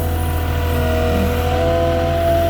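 A Moffett truck-mounted forklift carrying two pallets climbs a curb, its engine droning steadily and loudly up close with a constant mechanical hum.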